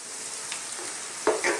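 Steady, soft sizzle of rice frying in a pan for risotto, with a faint scrape of stirring near the end.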